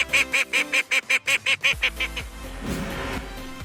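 A duck quacks in a quick regular series of about ten nasal honks, loud and close, then fades into a busy musical backdrop.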